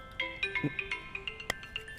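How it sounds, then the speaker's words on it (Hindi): A mobile phone ringtone plays a short melodic tune of repeated chiming tones at moderate volume, with no voices over it. "इस समय कौन फोन कर रहा है?"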